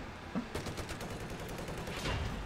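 Tank cannon and gunfire in a combat video game, a dense run of rapid shots with heavier booms at the start and end, loud and continuous across the whole stretch.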